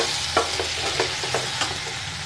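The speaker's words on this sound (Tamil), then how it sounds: "வெங்காய சட்னி வைக்கிறதுக்கு வெங்காயம் வதக்கி" Onions sautéing in a pan for onion chutney, a steady close sizzle with several quick stirring scrapes at a brisk, uneven rhythm and no speech.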